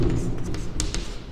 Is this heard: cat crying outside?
no